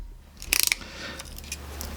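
A ratcheting crimper clamps a wire terminal on a 120V transformer lead, giving a quick burst of five or six sharp metallic clicks followed by faint handling noises.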